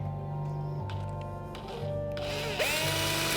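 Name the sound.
power drill running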